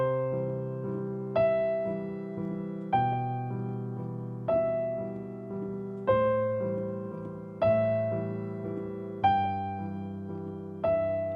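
Piano triad pattern with both hands: low left-hand chords under a repeating right-hand figure, with a fresh strike roughly every second and a half that rings and decays in a gentle, even, song-like flow.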